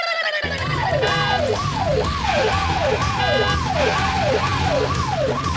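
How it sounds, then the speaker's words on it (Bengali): An ambulance siren wails loudly and steadily nearby, its rising-and-falling tone repeating about every half second over a vehicle's rumble, with a brief high beeping layered in at moments. "এমন সাইরেন বাজিয়ে যাচ্ছ কেন ভাইয়া?"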